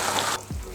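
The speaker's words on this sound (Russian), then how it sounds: "Сливаем лапшу через сито." Brief splash and rush of water as cooked buckwheat soba noodles are poured into a metal sieve, a short close gush that drops off quickly, with no voices.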